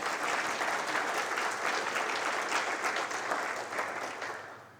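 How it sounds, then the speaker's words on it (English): A room of business people at a Palm Beach North Chamber breakfast claps to welcome new members: sustained, dense applause from many hands, even and lively before tapering off at the end. "Let's give our brand new members a big round of applause and welcome them to the Chamber family."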